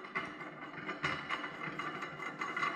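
A hand tool loosening and unscrewing a part on a Can-Am Maverick X3 clutch, giving soft, close metallic clicks and scraping in short irregular bursts at low volume, with no talking.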